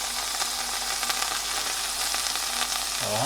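Lamb meat for birria fries in a hot pan with a loud, steady, close-up sizzle and crackle, a constant dense hiss with no talk, and a low stirring scrape right at the end.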